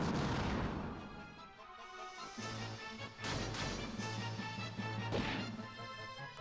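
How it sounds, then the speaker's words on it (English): Fire magic spell striking an enemy in Final Fantasy II: a burst of crashing, booming impacts, with a loud hit at the start and further thuds a few seconds later, all at low overall volume with no voices. "Now I can actually hit him with my fire magic."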